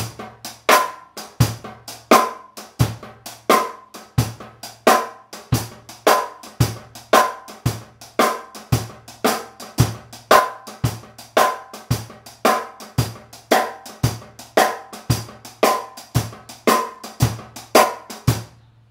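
A drum kit plays a slow, steady shuffle groove with kick, accented snare hits and soft snare ghost notes in a swung, repeating pattern, close and clear with no talking.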